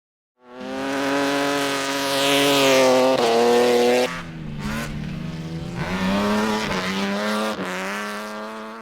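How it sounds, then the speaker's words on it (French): Race car engines roar loudly and steadily at the Ouaco circuit in New Caledonia, pitch rising and dipping as they rev and shift, with a brief tire squeal midway. "Les moteurs ont rugi ce week-end à Wako."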